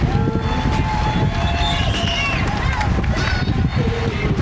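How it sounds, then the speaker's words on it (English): Strong headwind roaring across the microphone during an outdoor run, a steady loud buffeting rush that fills the whole clip, with a faint voice speaking underneath. "There's a brutal headwind."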